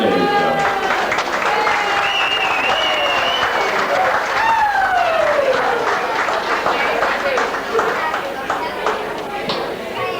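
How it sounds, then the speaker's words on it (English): Lounge audience giving a long round of applause to seven contestants in a glamorous granny competition, continuous dense clapping with voices talking over it, close and sustained. "For all 7, a big, big round of applause, ladies and gentlemen."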